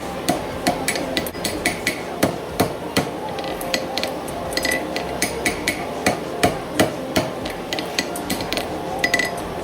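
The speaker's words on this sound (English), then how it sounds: "pay attention to how the hammer is hitting the shoe and how the shoe is canted on the anvil a little bit" Farrier's hammer striking a steel horseshoe canted on an anvil while forging a diamond calk on a hind shoe, sharp metallic blows coming in steady irregular bursts, close and loud with no talking.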